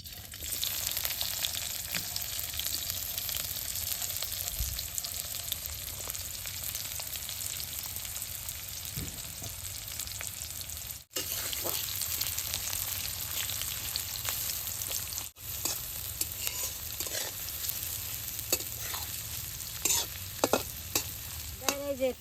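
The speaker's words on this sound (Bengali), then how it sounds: "এই যে পেঁয়াজ রসুনটা সুন্দর আদা ভাজা হয়েছে" Onion, garlic and green chilli fry in hot oil in a wok for a Bengali village-style mash, a steady close sizzle with scattered stirring scrapes and pops, no talking.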